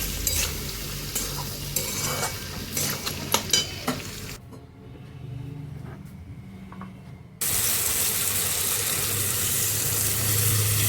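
A spoon scrapes and clatters as vegetables are stirred in a pan with salt and green chillies for a Bengali vegetarian dish, a run of irregular close knocks, then a quiet pause, then a loud, steady sizzling hiss.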